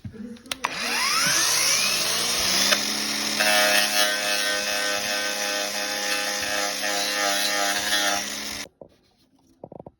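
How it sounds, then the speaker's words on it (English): Soft wheel power tool cleaning paint under the wheel arches of a van: the motor spins up and holds a loud steady whine with grinding scrape for several seconds, then cuts off abruptly. "I'm going to use this soft wheel to clean up the paint under the arches."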